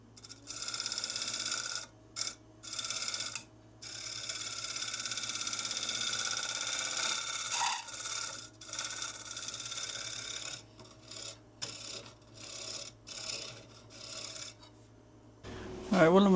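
Hand-sanding a wooden bowl, a steady raspy rubbing that stops and starts in strokes, fairly quiet against a low background hum.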